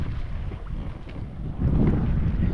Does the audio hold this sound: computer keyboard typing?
no